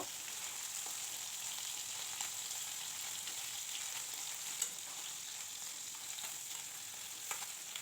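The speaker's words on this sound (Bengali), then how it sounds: "এইভাবে আমি সব মাছ কিন্তু ভাজা করে নেব" Puti fish sizzle in hot oil in a pan, an even dense crackle with a few sharp pops scattered through, steady and near, with no voices.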